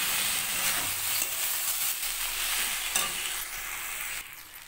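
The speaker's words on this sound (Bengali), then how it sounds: "তো আমি এবার এতে দেব মটরশুঁটি, দিয়ে ভালো করে কষিয়ে নেব।" Green peas sauté in a curry in a pan, a loud continuous sizzle with a few scraping stirs, easing off slightly near the end.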